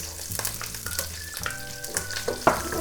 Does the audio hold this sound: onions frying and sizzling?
yes